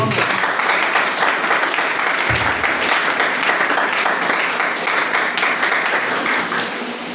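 A church congregation applauds and cheers in praise of the Lord, with steady, dense clapping filling the room throughout and a few voices mixed in.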